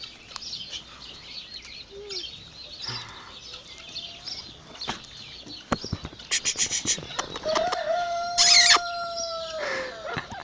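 Small, ill-tempered rooster crowing near the end with a loud drawn-out call, preceded by scattered clucks, wing flaps and knocking sounds in a farmyard.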